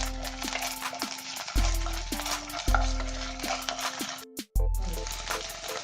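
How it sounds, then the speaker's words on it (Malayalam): Ginger garlic paste frying in a pan for pepper chicken, a steady close sizzle broken by repeated stirring scrapes of a spoon against the pan, with a brief drop to near silence midway. "ഒരു സ്പൂൺ ജിഞ്ചർ ഗാർലിക് പേസ്റ്റ് ആണ് ഞാൻ ആഡ് ചെയ്യുന്നത്. ഇത് നമുക്കൊന്ന് ഫ്രൈ ചെയ്ത് കൊടുക്കാം."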